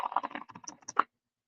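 A deck of playing cards split in half and riffle-shuffled, giving a quick run of crisp, rapid papery flutters and clicks for about a second, then silence.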